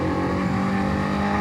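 Honda CBR1000RR-R sport motorcycle engine held at mid revs around 5,000 rpm, a close, steady buzzing drone for about a second and a half with no talk.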